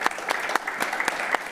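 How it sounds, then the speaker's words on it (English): An audience applauds the presenters at the close of a pre-conference workshop, with steady clapping from a modest group that carries on evenly for the whole moment, close and fairly loud. "Let's give a last round of applause for all of our presenters who worked today"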